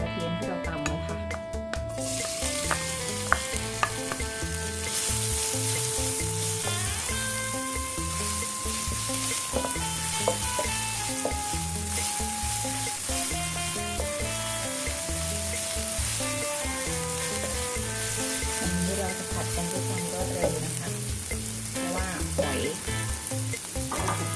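Chili stir-fried in a hot wok for spicy Thai stir-fried oysters, a loud, steady sizzle that runs throughout under a melodic music bed.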